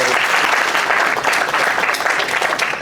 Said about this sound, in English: Big round of applause for it.